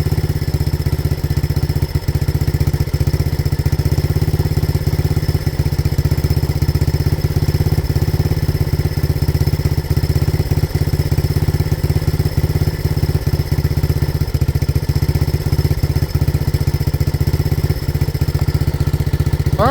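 A 1985 Honda ATC 200X three-wheeler with a freshly fitted exhaust idles for a long stretch, giving a loud, steady, close-up low pulsing drone that stays even the whole time.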